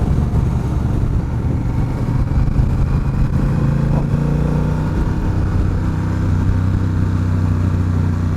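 A Honda Rebel 1100 cruiser motorcycle accelerates onto a highway, its engine droning loudly and steadily close by with a rising pitch and continuous wind rush throughout.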